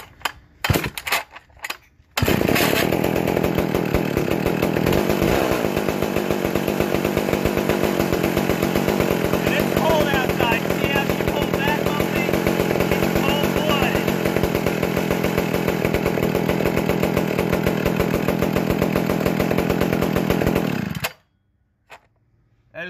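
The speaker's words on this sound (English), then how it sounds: "When I say this is a high compression chainsaw, I'm not lying to you guys." A vintage high-compression McCulloch chainsaw fires after a few sharp pulls and runs loud and steady at close range for about nineteen seconds, then cuts off abruptly.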